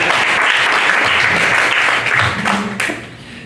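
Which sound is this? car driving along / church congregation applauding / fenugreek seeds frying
church congregation applauding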